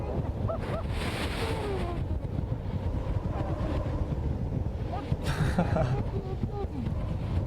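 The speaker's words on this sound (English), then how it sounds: "this is about 65, maybe 70 miles an hour worth of wind" Strong wind of roughly 65 to 70 mph roaring steadily and close, heavy gusts buffeting the microphone throughout, with a voice faintly audible underneath.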